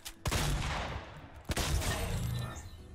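Heavy shotgun in the Fortnite video game fires two loud, close blasts about a second and a quarter apart, each a sharp crack with a rolling boom and a crackling tail over continuous game noise.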